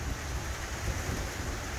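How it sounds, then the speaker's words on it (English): Steady rain falls outdoors as a soft, continuous hiss, fairly faint and even throughout, with no voices. "Oh yes, it's raining. It's actually raining."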